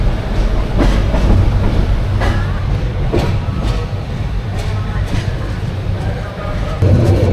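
Subarno Express passenger train on the Dhaka to Chittagong line, heard from inside: steady loud rumble of wheels and carriage with periodic track clicks and clunks, continuous throughout, with a faint voice in the background.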